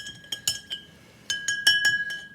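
A spoon stirs yellow food coloring in a glass of water, clinking against the glass in a handful of sharp, bright taps, some spaced and some quick together, close and fairly quiet.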